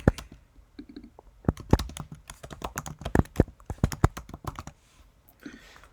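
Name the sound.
typing on a computer keyboard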